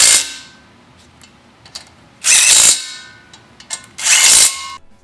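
Power tool tightening bolts on a Buick straight-eight to 700R4 transmission adapter kit, two loud bursts of ratcheting whir separated by quieter clicks and handling noise, no talking.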